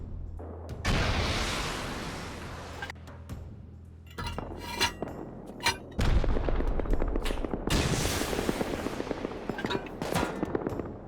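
Gunfire directed at a player in the survival game Rust, sharp bursts of shots cracking in clusters with ringing, metallic-glassy clinks between volleys, fairly loud and continuous across the stretch.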